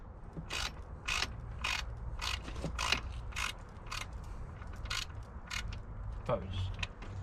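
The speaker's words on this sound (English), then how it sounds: "With the ratchet?" A ratchet clicks in quick bursts while working on an H22 engine swap, a close, rhythmic series of sharp clicks repeating roughly every half second, with low mechanical rumble and faint background voices.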